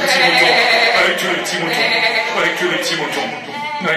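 A human voice imitating sheep bleating during a live sound poetry performance in French at an art gallery, a wavering, nasal bleat held over several seconds with loud, sung-like quality.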